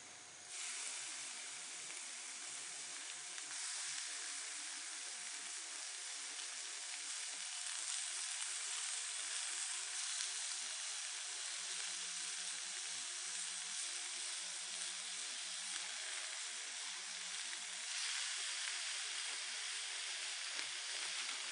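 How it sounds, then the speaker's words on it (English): Thin sliced bacon frying in a skillet over a smoky outdoor fire, a steady broad hiss and sizzle that stays even throughout with no talk. "we're just going to get it in the skillet like we normally would to fry bacon"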